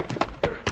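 Horse hoofbeats in an old Western radio drama, four quick clopping strikes spaced unevenly, close and fairly crisp.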